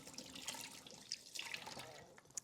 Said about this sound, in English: I'm just rinsing my hands off a little bit with some soap and water